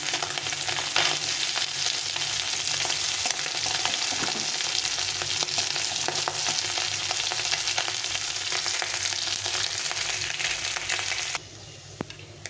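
Chera fish frying in hot oil in a pan, a steady, loud, dense sizzle with crackling pops that runs unbroken, then drops sharply quieter near the end.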